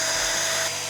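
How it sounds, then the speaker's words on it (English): A drill bores holes into the back of a lightweight plastic pumpkin for a Halloween archway, making a steady, close, high-pitched whir that runs unbroken, with no voices. "I'm going to be drilling holes into the back of the pumpkin to wire him onto the arch."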